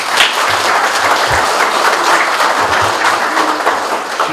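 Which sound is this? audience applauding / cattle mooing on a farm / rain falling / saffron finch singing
audience applauding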